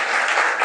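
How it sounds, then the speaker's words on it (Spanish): A church congregation claps together during an anniversary service, a brief, dense burst of applause, loud and close, with no talk over it. "así que dar un aplauso al Señor Jesús"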